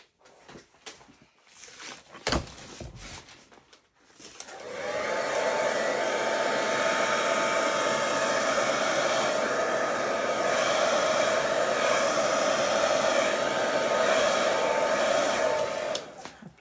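Hair dryer blows out acrylic paint in a Dutch pour, a steady loud roaring rush that runs unbroken for about twelve seconds after a few brief knocks and rustles.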